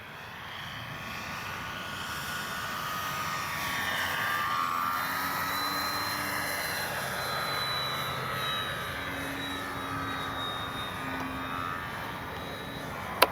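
A Dynam BF-109 RC warbird model airplane flies overhead with a steady, buzzing electric motor drone that swells and fades slightly as it passes, heard alone at moderate distance.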